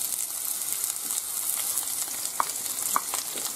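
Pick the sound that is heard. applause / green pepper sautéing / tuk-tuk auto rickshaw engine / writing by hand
green pepper sautéing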